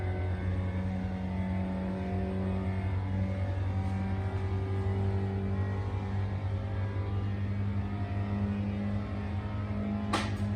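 A car engine drones steadily from inside the cabin, a strong sustained low hum with a few faint changes in pitch as it runs through gears, with no talking.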